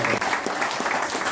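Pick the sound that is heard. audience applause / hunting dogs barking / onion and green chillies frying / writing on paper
audience applause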